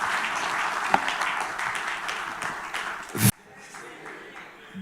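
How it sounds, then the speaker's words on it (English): Audience applause for Lord Paul Boateng at a post-budget economic forum, a dense, steady clapping from a large crowd that cuts off abruptly after about three seconds, followed by quieter room sound. "A round of applause for him one more time."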